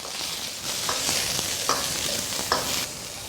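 Scallion pieces and ginger sizzle in a little hot oil in a wok, a close continuous crackle with light metallic taps of a spatula stirring every second or so.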